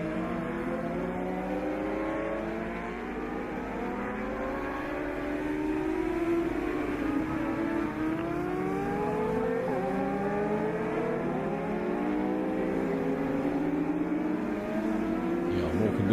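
Several racing motorcycles, including a Kawasaki, sweep along the Pope Straight at Darley Moor circuit during an open-class Peak Cup race, their engines wailing and overlapping continuously at a steady moderate distance while a commentator talks over them.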